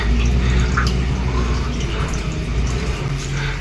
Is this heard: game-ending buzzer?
no